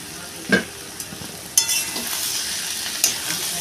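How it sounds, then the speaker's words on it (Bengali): Sliced onions with a pinch of salt fry in oil for a Bengali Rui fish head curry, crackling softly and steadily. Several distinct spatula scrapes and knocks against the pan mark the stirring, up close, with no speech. "হালকা করে কষিয়ে নেব পেঁয়াজের সঙ্গে"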